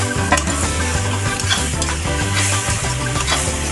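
Onion and tomato frying in oil in a pan, a loud, dense sizzle with continuous stirring and scraping throughout, no talking.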